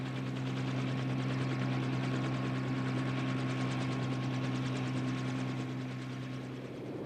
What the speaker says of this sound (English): The biggest helicopters carry 10-ton artillery pieces to remote encampments called fire bases